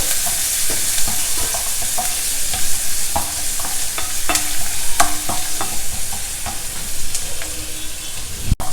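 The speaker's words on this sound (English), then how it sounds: "Stir fry the onions." Chopped onions stir-frying in a pan, a steady sizzle with repeated scraping clicks of a spatula stirring through the slices, close and fairly loud with no talking.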